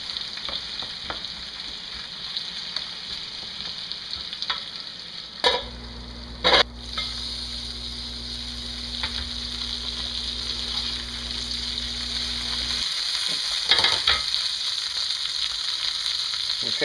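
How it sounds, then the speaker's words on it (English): Potatoes fry in butter in a pan with a steady close sizzle, while a utensil stirs and scrapes through them, giving a few sharp knocks and a low hum partway through. "Go ahead and just mix them up in the middle of it to kind of get that butter all over everything"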